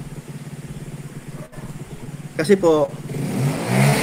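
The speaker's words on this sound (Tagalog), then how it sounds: "Palyado yung makina ng motor niya eh." A neighbor's motorcycle with a misfiring engine idles with an uneven, sputtering pulse, then revs up in a brief loud burst before settling into a rougher drone; a person speaks briefly over it.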